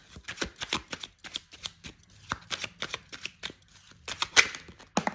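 Tarot cards are shuffled by hand in quick, rhythmic riffling bursts, close and fairly quiet, with brief pauses between rounds.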